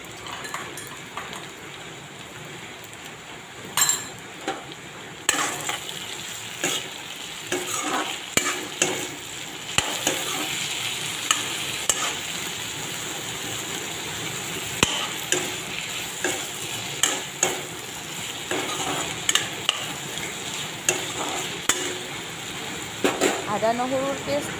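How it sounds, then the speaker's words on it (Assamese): Ginger garlic paste stir-fried in a pan, a continuous sizzle under repeated spatula scrapes and taps in an uneven rhythm, close and clear; a voice speaks briefly over it. "আদা নহৰুৰ পেষ্টৰ গোন্ধখিনি যাবৰ বাবে অকণমান লৰাই লৰাই ভাজি দিলোঁ।"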